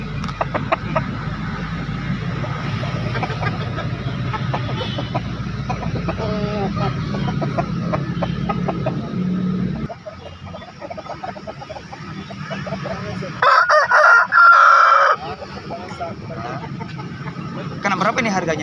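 Chickens cluck and a rooster calls amid a busy chicken market in Makassar, with people talking nearby and traffic noise in the background.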